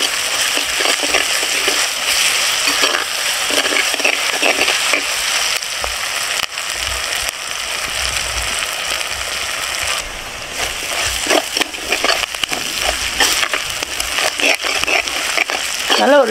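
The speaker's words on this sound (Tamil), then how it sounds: "இஞ்சி பூண்டு பேஸ்ட் எண்ணெயிலே நல்லா வதங்கிடுச்சு" Ginger garlic paste frying in oil for a village-style country rooster curry, a loud, steady hiss of sizzling that runs throughout with occasional crackles and stirring scrapes.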